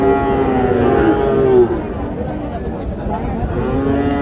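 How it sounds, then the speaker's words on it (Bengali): Cattle moo at a cattle market in Joypurhat, a loud drawn-out call up close, with more lowing and crowd murmur around it. "এখানে হিউজ পরিমাণ গরু রয়েছে"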